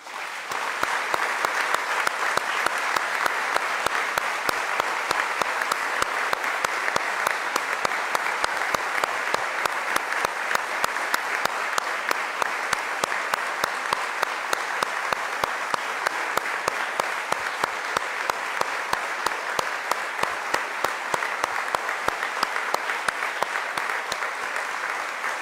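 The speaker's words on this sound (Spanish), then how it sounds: "Querida familia, de verdad yo quiero en este momento que le demos a Jero un aplauso hasta el cielo" A congregation at a funeral mass gives long, sustained applause, a steady, dense roar of many hands clapping in a large church that continues evenly throughout.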